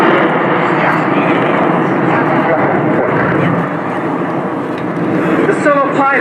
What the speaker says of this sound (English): The solo pilot climbing vertical inserts himself in the separation of the 2 sections